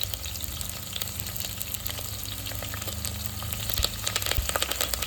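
Curry leaves frying in hot oil in a pan while cooking millet puliyogare, a steady crackling sizzle with sharper pops growing busier toward the end, no voices.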